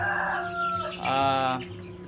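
Month-old meat-type chickens on a poultry farm give two short, clear chirping calls in quick succession, close by.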